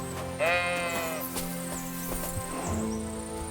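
Sheep in the medieval game Kingdom Come: Deliverance II give a few wavering bleats, one loud and near, then a softer one, over a busy outdoor soundscape with a faint horse-like clop.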